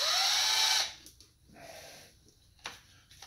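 A cordless DeWalt power drill whirs loudly for under a second as it backs out stripped screws on a carburetor, followed by faint clicks and handling noises.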